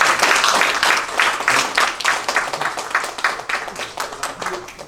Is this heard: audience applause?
yes